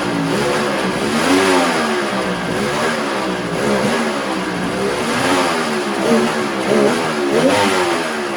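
A $50 three-cylinder Volvo Penta engine revs repeatedly with quick throttle blips, its note rising and falling in a steady wavering rhythm, loud and close with no one talking.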